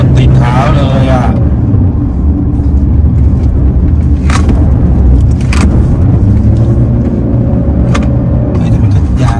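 A car on new Pirelli tyres accelerates hard, its engine roaring loudly and continuously from inside the cabin, with people talking over the drone throughout.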